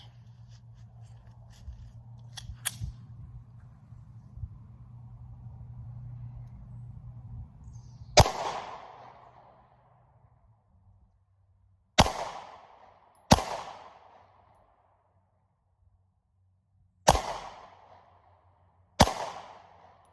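Gunshots from a Ruger EC9s pistol: about six sharp, loud reports at irregular intervals, each with a short ringing decay, over a low steady hum at the start.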